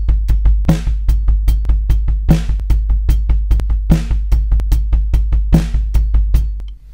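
A drum kit plays a steady groove: rapid, even sixteenth-note kick drum hits with snare cracks on 2 and 4 and eighth notes on the hi-hat, loud and close, no talking.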